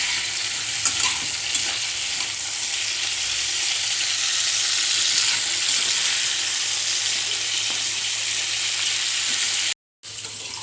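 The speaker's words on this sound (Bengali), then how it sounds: "দিয়ে আমি এটা হালকা করে ব্রাউন কালার করে ভেজে নেব" Chicken sizzling steadily in hot mustard oil, fried until light brown for a village-style desi chicken curry, with a continuous close crackle and occasional stirring scrapes that stop briefly near the end.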